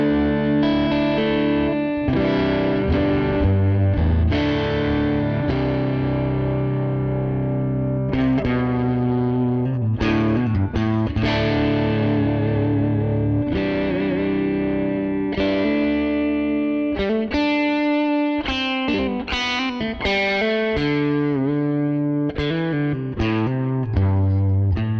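An electric guitar plays through a Fractal Axe FX III modelling a Brit JM45 (Marshall JTM45) amp with a compressor and Dynacab cabinet, giving a continuous driven tone of chords and single notes for the whole stretch, loud and alone.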